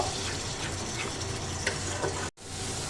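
Coriander and green chili paste masala sautés in a pan at a steady, close sizzle with occasional stirring scrapes, a brief gap near the end before the frying resumes.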